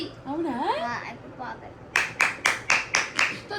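Children clap hands in six sharp, evenly spaced claps, close and loud, after a brief sing-song voice speaks.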